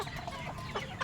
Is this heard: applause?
no